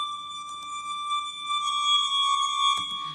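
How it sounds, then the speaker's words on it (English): A cello tone processed with reverb and distortion drones like an alarm, buzzy, steady and harsh with faint rhythmic pumping and a short noisy burst near the end. "What I wanted to have was like an alarm sound in the back."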